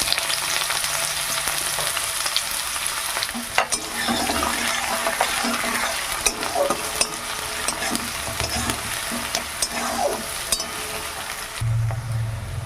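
Small cinnamon sticks and cloves frying in oil, with a continuous close sizzle and repeated utensil scrapes and taps as they are stirred, plus a brief low thump near the end and no voices.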